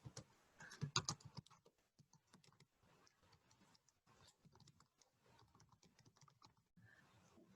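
Soft, rapid clicking of keys on a computer keyboard, a quick burst of typing followed by lighter scattered taps, close and quiet.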